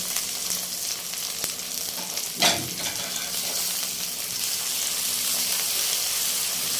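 Cut potatoes tipped into a pan of fried onions for a potato and egg curry, giving a sharp burst of sizzling that settles into a steady, close frying hiss.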